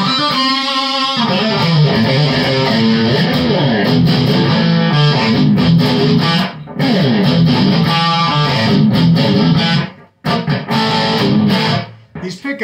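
A Censtar headless electric guitar played distorted through a Vox amp, dense overdriven chords and riffs sounding loud and sustained, with brief breaks where the playing stops.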